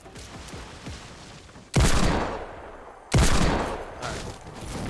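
Two loud close gunshots from a video game gun, each a sharp blast followed by a decaying echo, over faint background game noise.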